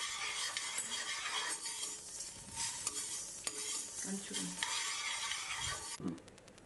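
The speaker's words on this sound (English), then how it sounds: "Next, let's add in the peppercorns, methi dana or fenugreek seeds. Dry roast these together." Peppercorns and fenugreek seeds dry roasting in a pan for sambar powder, a steady scratchy stirring and rattling with faint sizzle throughout, a few light clinks of a utensil against the pan near the end.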